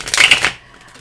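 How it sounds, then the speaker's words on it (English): Playing cards riffle in a quick shuffle, a brief crisp burst of flapping card edges lasting about half a second before fading to quiet. "we will shuffle the cards more when we will be dealing them"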